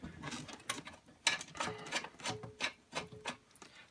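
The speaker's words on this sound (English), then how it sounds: "we just have to unscrew these two screws here" Two screws are backed out of the ballast of a QSSI 80-watt induction street light, giving close, irregular clicks and small ratcheting scrapes that come and go over a few seconds.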